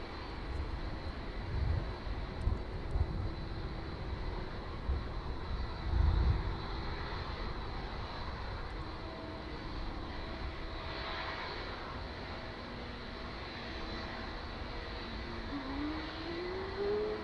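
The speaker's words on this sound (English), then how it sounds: "Spin around quickly, see if we can catch the Spitfire." A Supermarine Spitfire flies near East Midlands Airport, its piston engine giving a steady droning roar that swells and fades as it passes at moderate distance, with a rising tone near the end.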